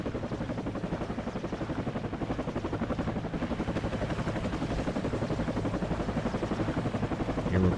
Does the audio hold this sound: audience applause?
no